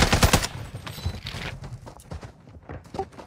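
Rapid bursts of gunfire from a tactical shotgun in the video game Fortnite crack loudly at first, then continue as scattered, fainter shots and clatters.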